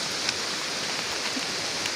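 Floodwater pours down a newly formed waterfall after a night of heavy rain, a dense, steady roar of rushing water, close and loud throughout with no voices.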